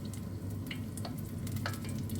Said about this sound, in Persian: و همین تدریج شما مرغ رو سرخ میکنید